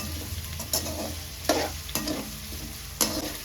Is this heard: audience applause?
no